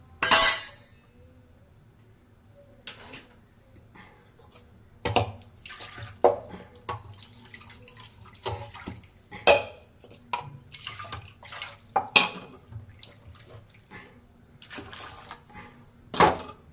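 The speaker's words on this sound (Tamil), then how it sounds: "இப்போ இந்த புளி தண்ணி ஊற்றிடும்." Tamarind water splashes and pours into a pot for rasam in bursts, with clinks of a vessel and scattered drips between pours, close by and fairly loud.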